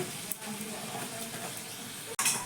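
Potato puri for a quick wheat-flour breakfast tiffin, frying in a small amount of oil with a steady, close sizzle and hiss and a brief disturbance near the end.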